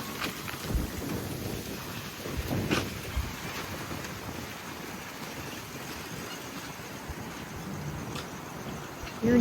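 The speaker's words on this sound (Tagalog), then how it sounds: "Medyo malakas yung hangin ngayon." Strong wind roars steadily at a campsite, buffeting the microphone with a constant rushing noise and occasional louder gusts.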